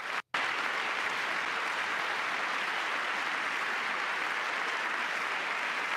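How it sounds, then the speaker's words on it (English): Audience applause during a presidential address to the nation, dense sustained clapping filling the room after a brief gap at the start, loud and even throughout. "Well, there's a couple of Democrats clapping."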